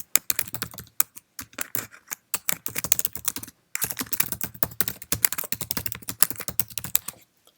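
Typing a playlist title on a Mac keyboard: rapid, close clicking keystrokes in irregular bursts with a short pause partway through, with no talking.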